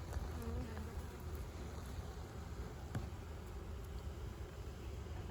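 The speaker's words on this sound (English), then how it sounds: "A couple of bees here." A steady, dense buzz of honeybees hums close by around an open hive being fed sugar syrup, continuous and even throughout with no speech.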